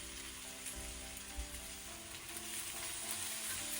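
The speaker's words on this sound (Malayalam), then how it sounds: "ഇതൊന്ന് ഇളക്കി യോജിപ്പിച്ച് ഇതെല്ലാം കൂടി നല്ലതുപോലെ ഇളക്കി മിക്സ് ചെയ്ത് വെച്ചിട്ടുണ്ട്" Shredded salted cabbage is stirred in a hot pan for a Kerala mezhukkuvaratti, giving a continuous close sizzle with faint scraping underneath.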